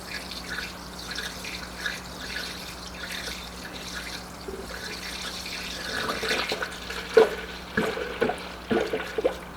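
Coolant pours through a funnel into a car radiator after new silicone radiator hoses are fitted, a quiet trickle and gurgle that turns into irregular glugs and splashes toward the end, with no talking.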